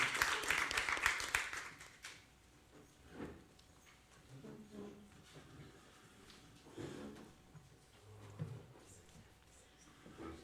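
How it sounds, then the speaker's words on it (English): Brief audience clapping at a zoo research conference, a short, fairly faint burst at the start that fades quickly into quiet room noise with scattered small sounds. "Another round of applause, please."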